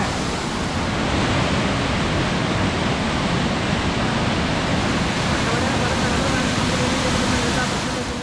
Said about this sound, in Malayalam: ഇവിടെ വേറൊരു വെള്ളച്ചാട്ടം ഉണ്ട് കേട്ടോ,